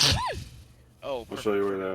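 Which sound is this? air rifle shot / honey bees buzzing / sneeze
sneeze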